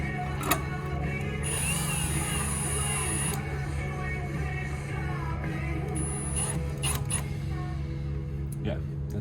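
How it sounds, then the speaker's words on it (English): A screwdriver drives screws into the fascia of a fire pit table, making creaky ratcheting turns and light clicks over a steady low hum, with a few sharp taps near the end. "just screw it in until it grabs by a couple threads"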